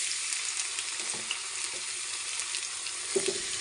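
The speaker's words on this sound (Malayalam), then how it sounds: "അപ്പോൾ എണ്ണ നന്നായി ചൂടായി വന്നിട്ടുണ്ട്. ഇതിലേക്ക് നമുക്ക് പാവയ്ക്ക ഇട്ട് കൊടുക്കാം." Thin bitter gourd slices frying in hot oil in a pan give a continuous bright sizzling hiss with a few soft knocks and a brief clatter near the end, close and steady, no speech.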